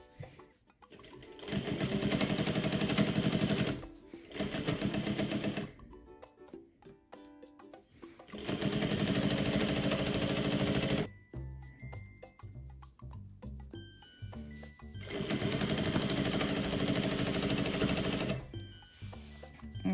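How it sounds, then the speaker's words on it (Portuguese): A sewing machine stitches straight seams on a mitred quilt corner, running in steady, loud, rapid bursts of a few seconds each, separated by brief pauses with light clinks. "sigo costurando reto"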